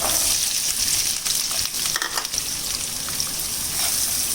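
Chopped onions sauteing in oil with green chili for a Kerala chicken cutlet, a loud dense sizzle filling the whole span, with a few clinks and stirring noises.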